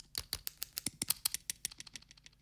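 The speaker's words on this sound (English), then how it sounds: "It's me typing on a keyboard but reversed" Reversed computer keyboard typing used in a music track, a quick run of about twenty sharp clicks with swelling reversed attacks, steady and fairly even in rhythm, close and clear with nothing else around them.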